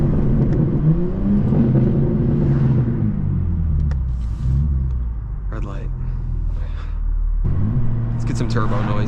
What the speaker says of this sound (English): Some turbo noise here going up the hill.